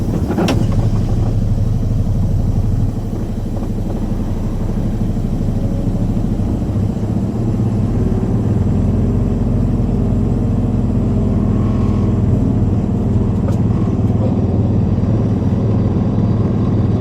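A new tractor's engine runs steadily at a low, constant drone while driving and turning on a windy winter day, with wind rumble mixed in and no talking.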